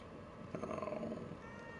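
A cat in the video game The Evil Within 2 gives a brief, quiet meow followed by soft purring, faint against a low background hum.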